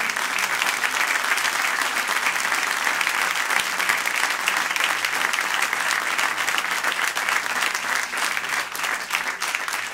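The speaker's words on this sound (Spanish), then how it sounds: "Denle un gran aplauso al Señor." A congregation at a communion service claps loudly and continuously, a dense wash of hands that holds steady for the full stretch with no voices on top.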